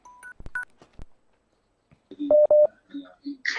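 Telephone dialing tones as a radio call-in quiz show connects its next caller, a short run of clear electronic beeps, then a pause and a brief burst of voices on the line.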